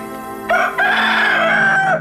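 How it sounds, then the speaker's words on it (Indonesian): A rooster crows alone at close range, a single loud, drawn-out cock-a-doodle-doo lasting most of two seconds after a short opening note. "Ini ayam jagonya, coba kamu lihat."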